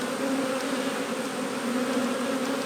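Honey bees swarm around an open hive during a spring inspection, a dense continuous buzzing drone, loud and close, with no voices.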